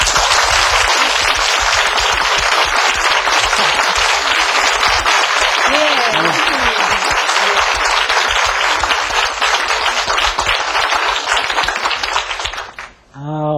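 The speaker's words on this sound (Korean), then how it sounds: "박수로 맞아주세요." Loud, dense studio audience applause at a television lecture on Korean art, sustained clapping for about twelve seconds before cutting off abruptly into a brief electronic tone.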